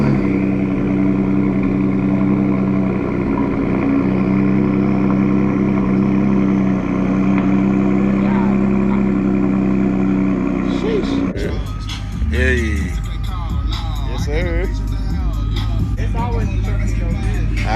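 A truck drives through heavy Dallas traffic, with a loud, steady engine drone and road rumble that shifts about midway into a rougher, changing mix of engine and traffic noise, with people talking faintly underneath.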